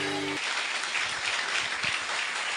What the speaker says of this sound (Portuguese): Vamos aplaudir a Jesus, igreja